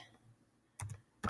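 Keys clack on a computer keyboard in two quick, close bursts of typing against a quiet room.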